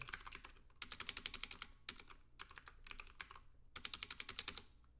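Quick bursts of close, quiet clicking on a computer keyboard, typed in short runs with brief pauses between them.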